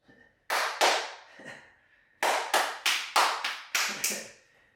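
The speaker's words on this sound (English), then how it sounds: "just clap one more time" Two sharp hand claps, a pause, then a quick run of about six more claps in a fairly steady rhythm, close and loud.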